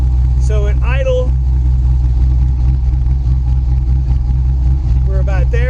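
A GTM car engine idles with a loud, steady low rumble throughout, while someone talks briefly near the start and again at the end.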